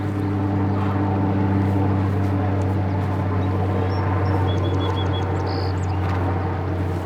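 Propeller airplanes flying overhead in Grand Teton National Park, a steady low droning hum that fills the scene continuously, moderately loud and distant, with faint birdsong above it and no talk.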